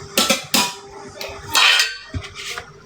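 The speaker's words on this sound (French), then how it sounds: "Je vais mettre en route mon lave-vaisselle." Dishes and cutlery clatter in a home kitchen while a dishwasher is loaded and set to a quick program; a few sharp clinks and a longer rattling scrape, close by, with no speech.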